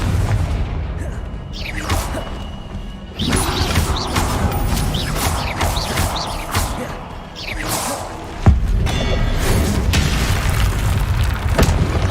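Repeated Confringo explosive spell blasts in the video game Hogwarts Legacy. Loud booms and crashes mix with whooshes through a dense, busy battle din, and a sharp impact lands late in the clip.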